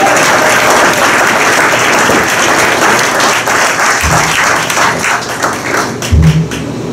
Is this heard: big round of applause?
yes